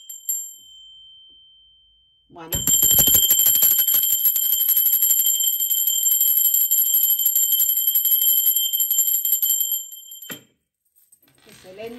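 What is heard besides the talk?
bell ringing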